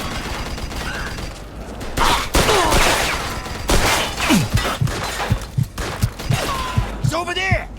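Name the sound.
gunfire in the video game Mafia 2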